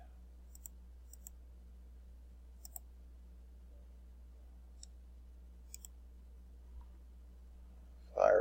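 A computer mouse clicks a few times, sharp and isolated, over a steady low electrical hum from a Windows 7 PC running Firefox.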